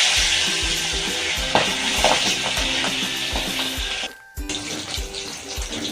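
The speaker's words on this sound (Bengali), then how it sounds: "এবার কড়াতে তেল গরম করে মাছগুলো আমরা ভেজে নেব।" Pabda fish rubbed with salt and turmeric fry in hot mustard oil in a kadai, giving a continuous hissing sizzle with rhythmic soft pops and spatters and a brief dip near the end.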